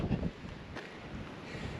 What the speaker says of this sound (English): It's very windy right now too. Very windy. Very gusty on the ridge.